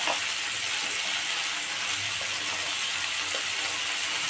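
Vegetables with salt and ground spices like turmeric, coriander and cumin fry over a low gas flame in a pan, giving a steady, close hiss and sizzle with faint stirring scrapes and no voices.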